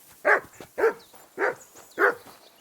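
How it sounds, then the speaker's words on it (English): A dog barking in the medieval video game Kingdom Come Deliverance 2, with four evenly spaced, loud, close barks in steady rhythm and quiet pauses between them. "Whistle at that mutt of yours to stop barking"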